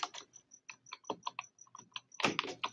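Quick, irregular clicks of typing on a computer keyboard, close and crisp, with a flurry of keystrokes near the end.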